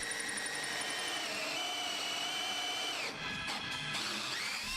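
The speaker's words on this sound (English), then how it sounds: "I'm going to be using a hole saw bit to drill out the middle of each of the dinosaurs" A power drill with a hole saw bit whines steadily at high speed, then briefly stutters and dips before spinning back up as it cuts through wood.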